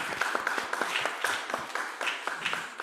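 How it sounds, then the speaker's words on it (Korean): A church congregation claps to welcome members back during a Korean church's Sunday worship service, a dense patter of hand claps from a small crowd filling the room steadily without talk. "박수로 잘 오셨습니다."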